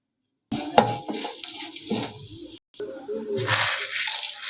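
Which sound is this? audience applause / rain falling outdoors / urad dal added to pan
urad dal added to pan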